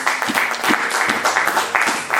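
A church congregation at a French-language worship service claps in a brief, brisk burst of applause, many hands together and close, with no voices over it.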